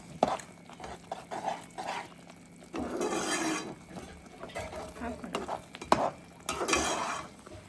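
A spoon stirs lauki kheer with dry rose petals in a pan, producing repeated swishing, scraping strokes with a faint sizzle and occasional utensil clinks, close and moderately loud.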